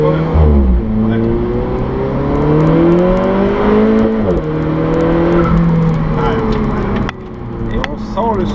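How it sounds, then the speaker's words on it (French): Turbocharged car engine pulling hard through several gear changes, its rising and falling harmonics steady and loud throughout, with a faint turbo whoosh beneath and a sudden drop in level near the end. "on sent le souffle du turbo, il n'est pas désagréable finalement ce turbo"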